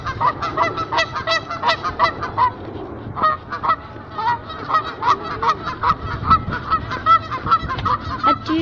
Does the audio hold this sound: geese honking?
yes